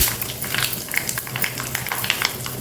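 Mustard seeds, cumin and asafoetida crackle and sizzle in hot oil for a tempering, giving a dense, steady frying hiss with small pops all the way through, close and fairly loud, with no voices.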